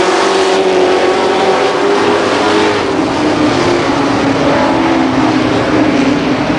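Mini stock race cars roar around the Columbus Motor Speedway in a steady, loud engine drone, several motors blending into one continuous rasping wail with subtle pitch shifts as they push toward the finish.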